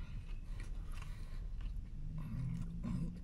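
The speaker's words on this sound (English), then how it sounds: "Every bite is crunchy." Close crunching bites into a buttery, crunchy toasted corned beef sandwich with cheese, soft repeated chewing and crackle at low volume, no talking.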